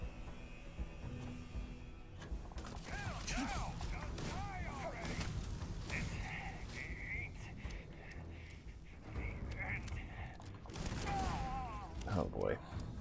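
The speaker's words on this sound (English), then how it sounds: "really bad idea to be firing next to these explosives" Gunfire from the Starfield video game rattles in bursts near explosives, mixed with whooshing effects and chirping tones, while a voice talks over much of the action.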